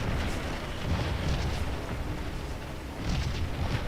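Cannon fire on a battlefield in the war game Scourge of War rolls as dull, distant booms that merge into a continuous low rumble with no talk over it.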